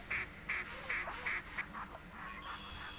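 Ducks quack in the hunting video game The Hunter during a duck hunt: a run of evenly spaced, fairly loud quacks, followed by softer, more scattered calls over a faint background.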